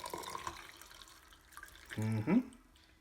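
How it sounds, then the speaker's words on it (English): Water poured into a glass of freshly made passion fruit juice, a short splashing pour heard faintly and briefly after some quiet background sound. "Add some water."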